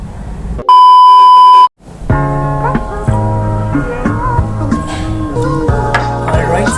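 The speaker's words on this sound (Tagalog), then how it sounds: "At isama mo na rin po pati yung bell notification" A loud, steady electronic bell tone rings for about a second, then cuts off before music starts.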